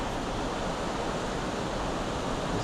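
Broadband steady rush of a river pouring over rocks at Valley Falls State Park, heard up close and constant with no other sounds.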